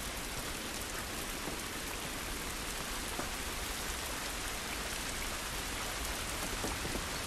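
Steady rain in the video game The Last of Us Remastered, a dense, even hiss of drops on surfaces with no pauses, continuous and fairly quiet throughout.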